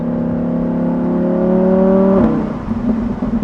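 A Lamborghini Huracan EVO Spyder's 5.2-liter naturally aspirated V10 revs up with a rising, sustained howl, then cuts off abruptly and drops into a rough, burbling idle.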